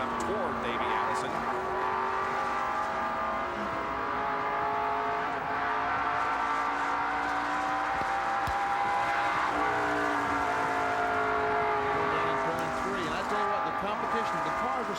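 NASCAR Winston Cup race cars roar through the 1989 Goodwrench 500, engines droning and shifting pitch steadily under continuous commentary, loud and sustained with passing surges.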